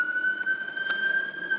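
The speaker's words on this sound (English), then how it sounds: "you're gonna have to listen to some sirens" Emergency vehicle sirens wail outside an open window on Ninth Avenue in the city, a loud steady tone holding over faint street rumble.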